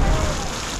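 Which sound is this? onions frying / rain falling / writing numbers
rain falling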